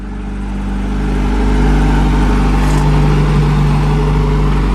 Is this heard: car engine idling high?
yes